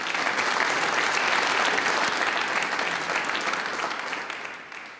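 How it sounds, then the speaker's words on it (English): A dense, sustained round of applause from the audience at a Stormont gathering with Tommy Sands and friends, loud and even throughout before tapering slightly at the end. "I think that we should give them a round of applause"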